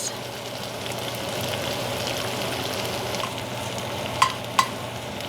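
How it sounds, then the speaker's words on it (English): A tablespoon of tomato paste toasting in oil with bell peppers in a pot of thick chili, a steady close sizzle running throughout, with two sharp clinks near the end as a utensil stirs against the pot. "I'm going to add in about a tablespoon of tomato paste, and I'm going to kind of just toast that in the oil for a few minutes."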